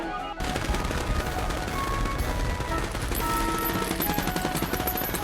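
Musket gunfire in a Revolutionary War battle dramatization, a continuous loud crackle of overlapping shots for several seconds like a ragged volley, with battle din underneath.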